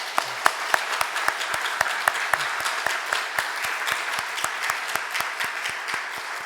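A church congregation claps together in a steady, even rhythm, the applause sustained and moderately loud without any cheering or talk.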